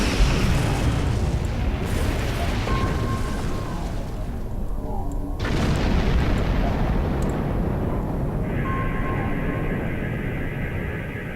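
A destroyed enemy starship blows apart in Star Trek Online, a dense roaring explosion with a bright burst near the middle that fills the whole stretch before fading into rumbling debris and a steady electronic hum.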